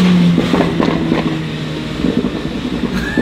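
A Mini Cooper with a 2-liter engine drones loudly under acceleration, then eases off with a scatter of faint exhaust pops, with wind noise throughout.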